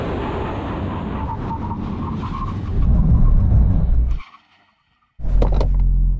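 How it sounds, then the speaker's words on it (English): Porsche 911 GT3 or BMW M4 CSL braking hard from 100 mph, loud road and engine roar that swells, cuts to near silence, then bursts back loudly. "now we're going to do a brake test from 100 miles an hour"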